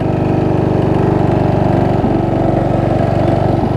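A $40 Craftsman riding mower's small engine runs loud and steady up close as the mower drives in fourth gear on a flat left rear tire, with a couple of brief dips in the drone.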